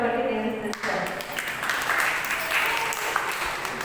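An audience at a women's Christmas gathering breaks into applause, a dense wash of clapping that swells after a brief lull, with a voice talking over it early on.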